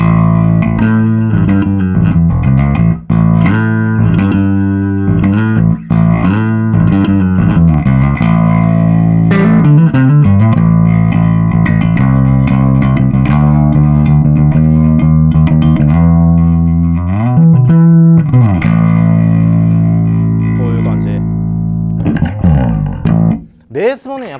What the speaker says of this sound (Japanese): これきっとチューブスクリーマーの、シミュレーターだと思うんですけど